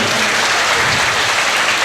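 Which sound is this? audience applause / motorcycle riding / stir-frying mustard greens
audience applause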